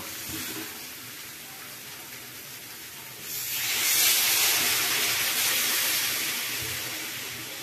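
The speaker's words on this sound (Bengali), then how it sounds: "মোটামুটি কষা হয়ে গেছে, এবারে আমি এর মধ্যে জল দিয়ে দেব।" Water poured into a hot pan of jackfruit and potato curry gives a sudden loud steamy hiss and sizzle that swells midway, holds, then slowly fades, with no talk.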